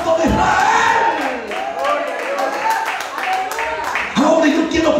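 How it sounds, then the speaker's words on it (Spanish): A church congregation at a Spanish-language service applauds loudly and cheers in a reverberant hall, a dense, continuous crowd roar with voices shouting over the clapping. "aplaude fuerte al Santo de Israel"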